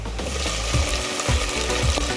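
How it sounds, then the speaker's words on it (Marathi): Tomato and onion frying in a pan for a dry black-eyed bean dish, a steady dense sizzle with rhythmic low scraping stir strokes roughly every half second, close and fairly loud. "टोमॅटो पण छानपैकी फ्राय करून घ्यायचा"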